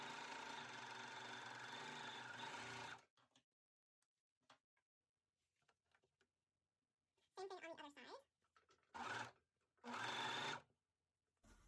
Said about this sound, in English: I'm going to send it through my serger